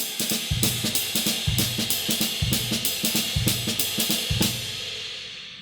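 Jazz drum kit playing a three-beat broken-time phrase, with bright ringing cymbals over repeated low tom and bass-drum figures in a loping, uneven pattern, close and unaccompanied, decaying at the end.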